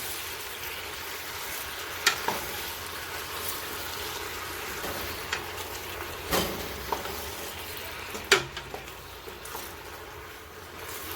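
Tomatoes going into a hot pan for a from-scratch pasta sauce, giving a steady, soft background sizzle with a few sharper clinks and pops throughout, no talking.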